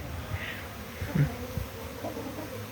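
Honeybees take off from their hives in a cleansing flight on New Year's Day in the Khmelnytskyi region, giving a faint, steady buzz with a few louder passes close by over a quiet outdoor background.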